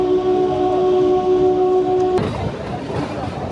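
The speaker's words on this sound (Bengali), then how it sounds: "আপনারা দেখছেন টয় ট্রেনে করে সিমলা জার্নি।" A Shimla toy train on the run: a steady, loud whistle-like tone holds for about two seconds, then gives way to a broad, rumbling rush of motion noise.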